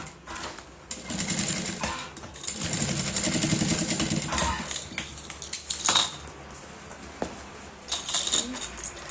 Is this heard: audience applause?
no